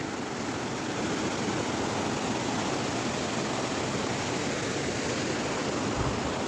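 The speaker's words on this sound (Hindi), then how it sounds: "ये है हमारे गांव की खड्ड।" A mountain stream rushes through a village ravine that feeds into a larger river, a loud, dense, steady roar of flowing water heard close by without pause.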